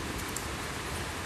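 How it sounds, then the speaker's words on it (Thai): A brief, even hiss of rain starts falling as pet frogs are taken out to play in the downpour, with no voices. "เฮ้ยฝนเริ่มมาแล้วฝนเริ่มแรงแล้ว"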